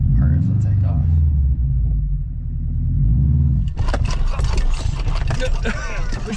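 A Subaru WRX engine idles with a low steady rumble, then revs up into a rougher, louder roar as a learner driver lets out the clutch, heard close from inside the car.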